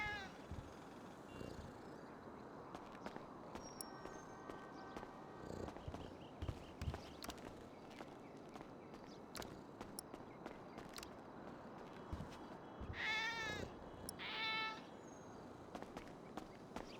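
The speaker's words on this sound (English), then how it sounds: "I'm gonna pet the cat." A cat in a roleplay game meows a couple of times and purrs softly amid faint footsteps and quiet background game sounds.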